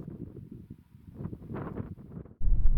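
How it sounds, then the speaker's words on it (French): Low, blustery mountain wind in the Andorra foothills buffeting the microphone, rumbling steadily and surging to a heavy, loud roar near the end; no voices. "Il y a énormément de vent donc c'est chiant, on peut pas l'enregistrer"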